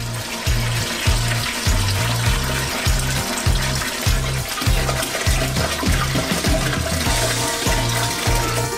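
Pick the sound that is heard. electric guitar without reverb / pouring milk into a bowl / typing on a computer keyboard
pouring milk into a bowl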